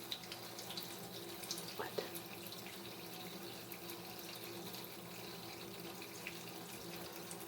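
A household tap runs steadily, a faint continuous hiss and splash of water into a sink, with a brief spoken word partway through.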